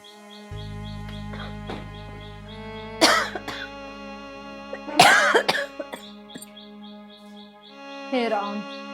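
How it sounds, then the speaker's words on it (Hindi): An elderly woman coughs in harsh, repeated bursts, close and loud, in an indoor scene from a Hindi film, with birds chirping faintly behind and a voice speaking between the coughs. "दुखी हो रही इस खांसी से बार बार"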